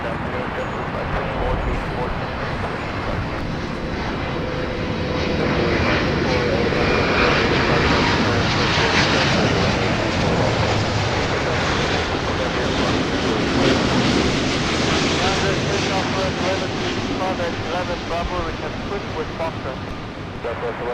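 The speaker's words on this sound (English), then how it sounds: "We've got Austrian inbound from Vienna." Austrian Airlines jet inbound from Vienna on approach to LAX, a loud sustained engine roar that swells through the middle and holds steady, with wind noise across the microphone.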